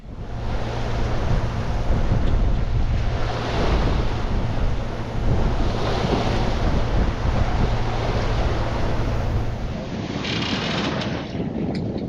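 An Oyster 56 sailboat motor sailing at sea off Mexico toward Mazatlán, with steady loud wind roar and rushing waves against the hull, a low engine hum underneath throughout.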